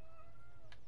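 One short, faint meow from a cat in The Sims 4 video game. It is a brief drawn-out call over a low background hum.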